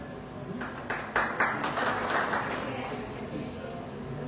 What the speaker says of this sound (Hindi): जोरदार तालियों से सर का स्वागत हो